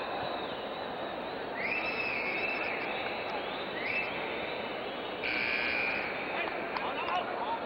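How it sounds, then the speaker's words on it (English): Buzzer sounding in an indoor futsal arena between Thailand and Egypt at the end of a timeout, several loud sustained electronic tones over crowd noise, with a commentator talking. "The buzzer indicates the end of the timeout."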